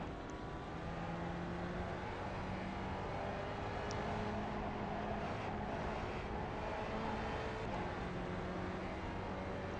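Spec Racer Ford race car with a sequential gearbox, driven in the iRacing simulator on the New Hampshire road course, its engine holding a steady drone with shifting tones throughout, loud and continuous with no talk.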